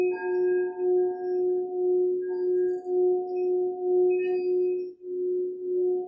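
A struck meditation tone rings out in a steady, pure sustained hum that swells and pulses gently, briefly dips near the end and then continues, loud and close with no voices.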